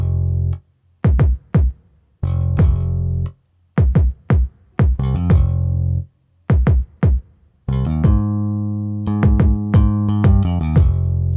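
Kick drum and bass tuned to match, played back in a music production session: deep thumping kicks locked with droning bass notes in a steady repeating groove with brief pauses, loud and clear with no voices.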